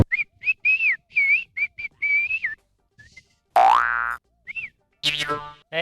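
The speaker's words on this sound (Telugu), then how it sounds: "విజిల్స్ వేస్తున్నావేంటి ఇక్కడ రౌడీ వెధవలాగా" A person whistles a quick series of short and longer pitched notes. A few sliding, springy tones mix in, and there are silent gaps between bursts.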